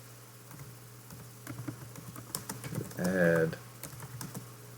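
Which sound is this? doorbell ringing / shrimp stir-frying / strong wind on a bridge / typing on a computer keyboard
typing on a computer keyboard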